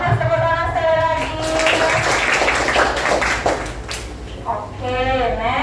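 Children applaud in a classroom, a mid-length burst of clapping with broadband texture that fades, while a teacher's voice speaks over it near the start and end.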